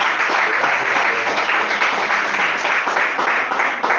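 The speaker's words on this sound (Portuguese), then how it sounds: "Vamos louvar o Senhor com palmas bem forte para Ele." Congregation in a church clapping hands in praise, a loud, dense and steady wash of many hands sustained throughout without pause.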